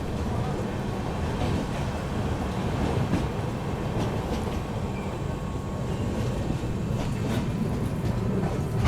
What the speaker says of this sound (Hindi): अपनी ट्रेन ने यहाँ पर स्किप कर दिया है मानसी जंक्शन